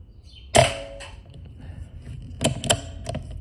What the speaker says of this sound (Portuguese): Quinto tiro na latinha de